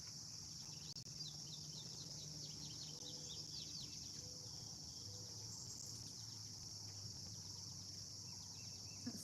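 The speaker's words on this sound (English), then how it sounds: "You can hear all the woodpeckers and all the birds chirping this morning." Birds chirping beside a river in the morning, with repeated short calls over a constant high insect-like drone and a low steady background hum, no talking.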